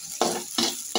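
Onion, green chili and chopped garlic sizzle in hot cooking oil, with three short bursts of frying hiss close up as the pieces are stirred.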